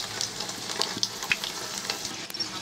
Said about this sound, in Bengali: এখন আমি বন্ধুরা মোগলাইটাকে লাল করে ভেজে নেব।